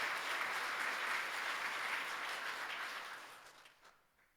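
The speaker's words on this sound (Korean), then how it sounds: "박수로 우리 환영하겠습니다" A church congregation applauds during a Sunday worship service, a steady wash of clapping from many hands that holds for a few seconds and then tapers away. The sound is moderately faint.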